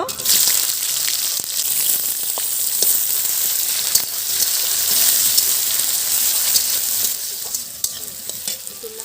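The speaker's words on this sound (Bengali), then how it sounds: "তেজপাতা দিয়ে দেব, জিরে দিয়ে দেব, শুকনো লঙ্কা, পেঁয়াজ কুচি দিয়ে দেব" Bay leaf, cumin, dried chili and chopped onion fry in hot oil for Bengali aloo dum, a steady loud sizzle with stirring scrapes throughout, no voices.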